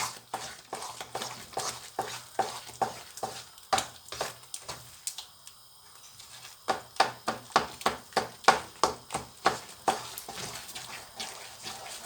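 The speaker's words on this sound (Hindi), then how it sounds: "अब हमने खोए के साथ इसे भूनना है अच्छी तरह से।" Date halwa with khoya roasting and being stirred in a pan, a steady run of scraping spoon strokes with a brief pause midway, fairly quiet and close.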